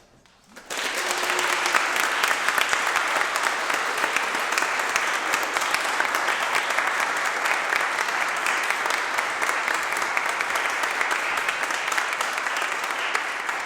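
Sustained audience applause for choir singers at a fall choral concert, loud and steady, beginning abruptly after a moment of quiet and continuing without pause for the whole stretch.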